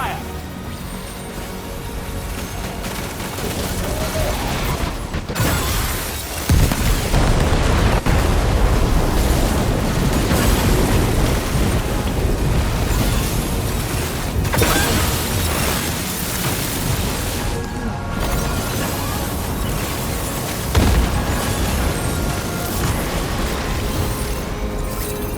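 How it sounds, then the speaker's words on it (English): The main cannon of the ship Magellan fires in the video game Death Stranding 2, producing loud, sustained booms and rolling explosions that fill the scene, with heavy low rumble and several sharp impacts layered under in-game voices. "The Magellan's main cannon is online and ready to provide fire support."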